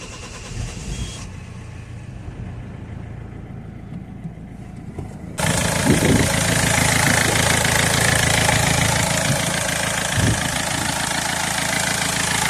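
Peugeot 307 1.4 HDi diesel after a fuel filter change, cranking briefly and then catching into a loud, steady, close idle that carries on to the end.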